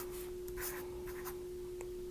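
Pen or marker strokes drawing a valence electron dot beside a chemical symbol for cesium, a few faint, brief scratching rubs over a steady background hum with no talking.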